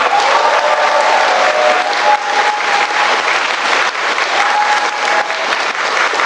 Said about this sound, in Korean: 이 자리를 빌어 금강마을 통합재건축 추진준비위원회에 뜨거운 박수 한번 부탁드리겠습니다